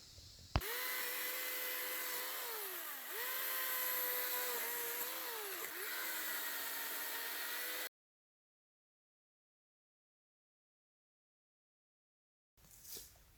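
A small electric chainsaw's high, whining motor runs steadily for several seconds, dipping in pitch a few times as it bites under load, then cuts off to silence.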